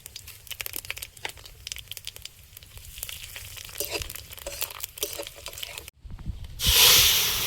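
Dried red chillies, bay leaves and five-spice seeds go into hot oil, crackling and spitting in close, irregular bursts, then a sharp, louder hiss flares up near the end.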